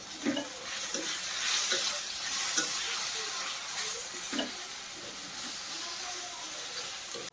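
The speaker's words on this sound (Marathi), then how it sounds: "ते पण थोडंसं फ्राय करायचं" Masala paste fries over low heat in a pan for egg masala, giving a steady, fairly loud hiss with a few soft stirring scrapes, with no talking.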